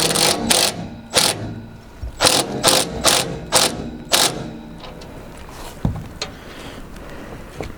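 A ratchet tightens bolts on a Woodland Pro TF810 wood chipper, with several quick bursts of rapid clicking separated by pauses, then quieter scattered clanks and handling noises.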